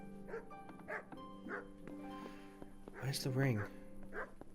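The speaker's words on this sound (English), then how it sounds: "Bloody dog. Shut up." Dog barking in the video game Kingdom Come: Deliverance, a series of repeated barks at moderate distance, with someone speaking over them partway through.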